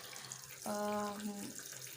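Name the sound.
Sharp ES-H758T washing machine running first wash cycle with water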